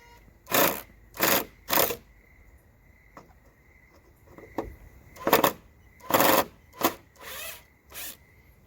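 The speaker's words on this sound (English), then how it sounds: "It's okay that it make those pounding sounds, buddy, because that's an impact driver." A cordless impact driver drives screws into boards in bursts: about ten loud rattling hammering runs, each roughly half a second long, with short quiet gaps between them. The tool is close by and there is no talk.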